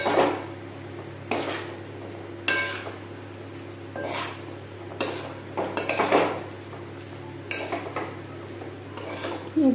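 Fried paneer pieces for matar paneer are stirred in a pan, with repeated sharp clanks of a spoon against metal at irregular intervals over a low background hiss and hum, close and fairly loud, with no talking.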